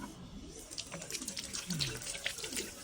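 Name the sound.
washing hands at hospital sink tap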